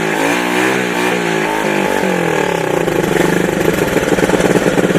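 A Honda ATC 185S three-wheeler engine runs at a steady idle after an ignition repair, its close, loud, even chugging continuing alone throughout.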